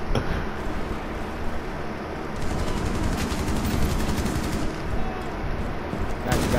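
Bursts of automatic gunfire from the video game Rainbow Six Siege rattle in fast continuous volleys, dense and sustained, with a short pause partway through and talk in the background.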